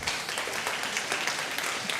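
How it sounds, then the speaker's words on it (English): Conference audience gives steady, dense applause throughout, a continuous wash of clapping that stays even in level from start to finish, with no talk over it. "A big round of applause."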